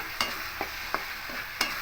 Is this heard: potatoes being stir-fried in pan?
yes